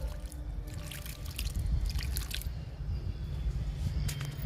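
Liquid kitchen-waste fertilizer pours and splashes onto the soil around a fruit plant, a close, continuous wet trickle with scattered drips and small splashes.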